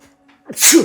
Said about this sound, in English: sorry for that. sneezing.